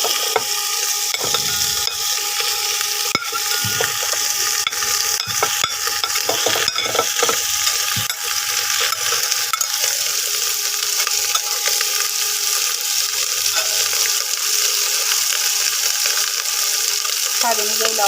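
Boiled soybeans and potatoes being stir-fried in a hot pan for a Bengali soybean curry, a steady loud sizzle broken by scraping stirs and occasional clinks of a utensil against the pan.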